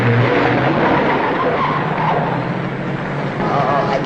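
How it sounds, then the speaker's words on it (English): A car approaching and driving past on a street, its broad engine and tire noise loud and steady throughout, with a brief voice at the start. "There's a car coming now."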